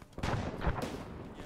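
Video game gunfire erupts in a short cluster of two or three sharp, booming shots in quick succession, fairly quiet overall.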